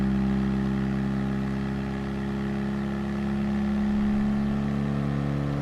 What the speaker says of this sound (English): We're really building up speed again. Revs go up